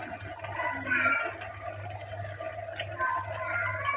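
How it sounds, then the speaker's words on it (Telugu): Gongura leaves boiling in a pot, a continuous bubbling, watery simmer at moderate level with no voices. "ఇక్కడ గోంగూర కూడా ఉడుకుతుంది"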